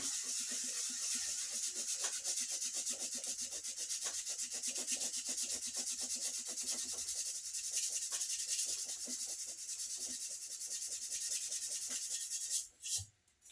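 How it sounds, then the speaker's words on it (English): Sandpaper rubs along a wooden axe handle in quick, even back-and-forth strokes, a close rhythmic rasping that runs steadily for over twelve seconds before a brief clatter at the end. "I'll swap transition to the sandpaper"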